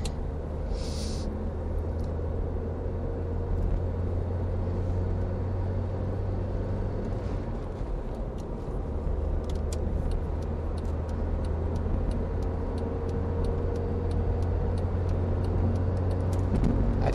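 A car cruises along the A11 on a long journey, its steady low engine and road rumble filling the interior continuously, with light ticking and rattles on top and no talking.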